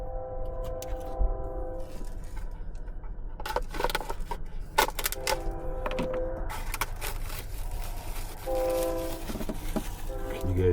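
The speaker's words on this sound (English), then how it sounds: "Can you guys hear the train?" A train passes near a truck camping spot, its horn sounding in long repeated blasts over a low rumble and rolling clatter, with a few brief knocks and handling noises close by.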